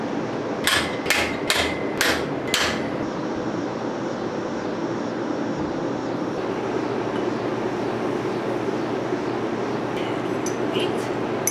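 A smith hammers red-hot steel around spikes while forge-welding an axe bit, with five sharp ringing blows in a quick run at the start, then a steady roaring forge fan or burner and a few faint taps later.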